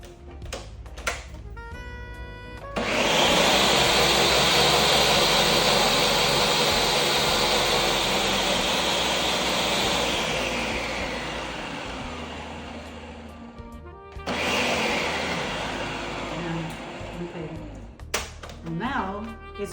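A food processor whirs loudly as it blends basil pesto, running in one long steady burst of about eleven seconds, then a shorter second burst after a brief pause.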